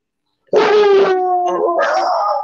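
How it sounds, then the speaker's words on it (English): A dog barks and howls close up in one sustained, loud, wavering cry that breaks into yips, heard alone without talk. "I'm sorry, that's my dog."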